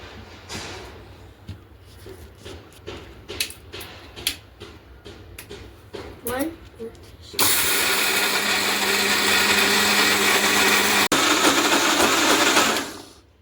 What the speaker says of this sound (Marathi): तर आता हे याला झाकण लावून आता आपण मिक्सर ऑन करू.